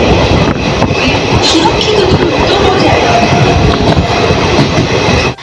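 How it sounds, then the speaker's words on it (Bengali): The 13117 Dhano Dhanya Express train runs at speed between Baharampur and Kolkata, heard from inside as a loud, continuous roar of rolling wheels and rattling carriages. "ট্রেন আমাদের ছুটে চলেছে নাম অজানা অনেক স্টেশন দূর গতিতে।"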